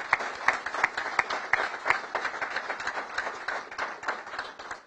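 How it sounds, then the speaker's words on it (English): Audience applause at a grand opening for The Residences at Kenilworth, a housing development, with a dense, steady patter of clapping hands lasting throughout at moderate distance. "Give them a big round of applause."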